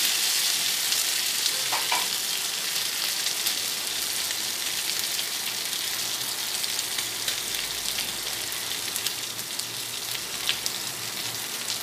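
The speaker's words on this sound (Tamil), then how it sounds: "கருவேப்பிலையும் சேர்த்துக்கிறோங்க. நல்லா பரட்டி விட்டணும். இந்த எண்ணெயிலே வேக விடணும்." Curry leaves fry hard in hot oil on an infrared electric cooker, a loud steady sizzle and crackle with scraping stirring throughout, close and without talk.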